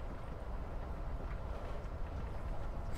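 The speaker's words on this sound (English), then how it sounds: "I've been wondering for a good 5 minutes why we're on like a moving freight train going to nowhere" A freight train rolls along steadily inside the Life Is Strange: Before the Storm game world, giving a continuous low rumble with faint rhythmic clatter and no voices.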